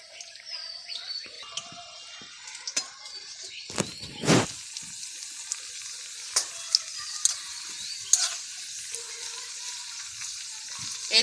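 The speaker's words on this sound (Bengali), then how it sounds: "এইভাবে নিয়ে দুই পাশ চুবিয়ে নিয়ে তেলে ছেড়ে দেব" Dipped bread slices frying in hot oil, a steady close sizzle broken by several sharp clicks and knocks of utensils, with faint bird chirps in the background.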